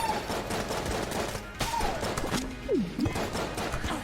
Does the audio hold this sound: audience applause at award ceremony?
no